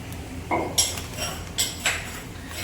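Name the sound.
pounding chutney by hand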